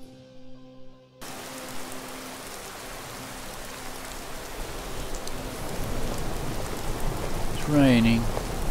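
Steady rain hiss in Skyrim, rising and continuous after an abrupt start, with a faint low tonal hum from the game's ambience and a brief bird-like chirp near the end.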